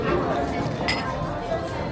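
Glasses clink once in a toast at a restaurant in Da Nang, Vietnam, a short bright chime over a busy background of diners talking.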